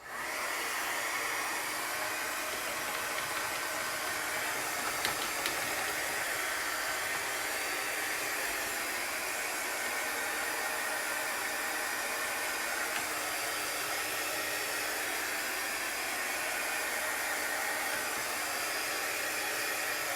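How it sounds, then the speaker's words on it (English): A hair dryer blows over a chalk transfer on an 18x18 board, a steady, loud whooshing roar held close and unbroken for the whole stretch, with no voices. "we need to let this dry or put the dryer on it"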